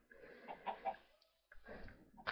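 Clucking and squawking from a chicken in a survival video game, several short bursts in two clusters with a brief pause between, fairly close and clear.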